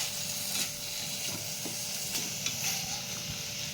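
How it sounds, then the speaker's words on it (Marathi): Finely chopped tomato sautés in spices in a pan for sprouted matki usal. A continuous close sizzle carries occasional spatula stirs and scrapes, with no talking. "बारीक चिरलेला टॉमॅटो टाकून घेऊया मसाल्यांमध्ये व्यवस्थित परतायचं आहे"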